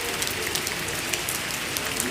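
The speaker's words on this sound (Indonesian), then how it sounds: "Lagi hujan." Steady rain falls at night in Cikarang, a dense even hiss with scattered soft drop ticks, close and continuous with no voices.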